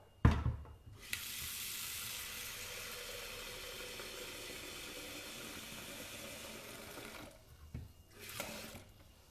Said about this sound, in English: that's just plain water from the sink